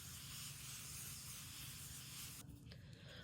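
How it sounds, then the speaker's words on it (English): A Laura Mercier translucent hydrating setting spray mists onto a face in one long, steady, close hiss, followed by a short quieter puff. "we're gonna go in with my Laura Mercier translucent hydrating setting spray"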